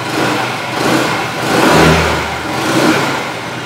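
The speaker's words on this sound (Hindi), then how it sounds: "इंजन का जो साउंड है काफी स्मूथ है और रिफाइंड इंजन जैसा एक साउंड आ रहा है" A Vespa scooter engine runs smoothly and steadily at close range, its refined hum swelling gently a few times as if lightly revved, with no talking over it.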